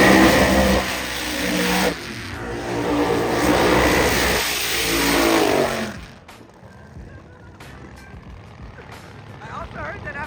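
Highly tuned Nissan GT-R race cars rated around 4,000 horsepower each rev loudly at a drag racing event, a roaring engine note for about six seconds that then drops away to quieter background noise, with people talking.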